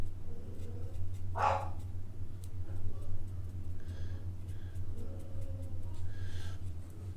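A dog gives a single loud bark in the middle, then fainter yaps follow, all over a steady low hum indoors while the postman is on his rounds.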